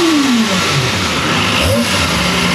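Loud, close revving comes from a Kawasaki ZX25R motorcycle engine with its stock exhaust, a sustained high-pitched roar that sweeps up and down over a couple of seconds.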